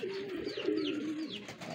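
A young racing pigeon coos softly and steadily for a couple of seconds, its low warbling call close and clear with faint chirps of other birds behind.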